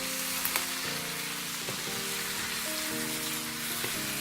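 Spices for a homemade chicken curry sizzling and being mixed in a hot pan, a dense continuous hiss and crackle with occasional stirring knocks, close, under faint background music.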